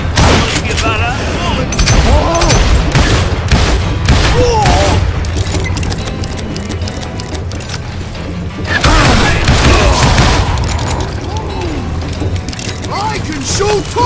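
Rapid, dense gunfire from a Western shooter game set among outlaws, crackling shots and metallic mechanism clatter piled together, loud and close, with voices shouting over the action.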